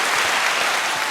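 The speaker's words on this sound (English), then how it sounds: "we got a round of applause for some self accountability" Steady applause from a podcast studio audience, a dense continuous wash of clapping that stays fairly loud and even from start to finish with no voices over it.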